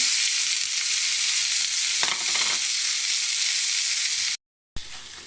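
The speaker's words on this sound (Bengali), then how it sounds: "আমি ফ্রাই প্যানের ভিতরে অয়েল দিয়েছি। কাটা chop onion, garlic, green chilli এখানের মধ্যে দিয়ে দেবো।" Chopped onion, garlic and green chili sizzle steadily in hot oil in a frying pan, a close, continuous crackle that briefly shifts as the pan is stirred, then cuts out for a moment before resuming.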